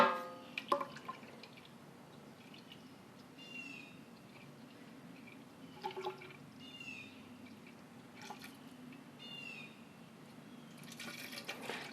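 Red ale wort flows and drips into a collection vessel during a home brew session, a faint steady trickle with scattered louder drips and splashes close by.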